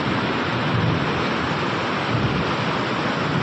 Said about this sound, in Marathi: असला पाऊस येतोय हे बघा.